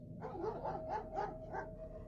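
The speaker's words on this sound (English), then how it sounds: "the barking only intensified" A dog barks repeatedly in a steady run of about five or six deep, threatening barks, fairly close and loud, with no talking over them.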